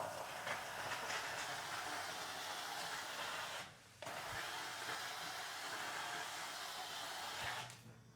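TVD steam cleaner mop blasting a continuous loud hiss of steam, broken by a brief pause midway and a drop in level near the end, heard close and without talk.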